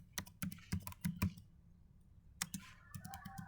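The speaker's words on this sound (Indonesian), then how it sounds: "kita ketikkan perintah enable" Typing on a computer keyboard entering network configuration commands, with bursts of close, crisp key clicks, a short pause, then another quick run of keystrokes in a quiet room.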